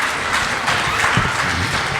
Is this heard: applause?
yes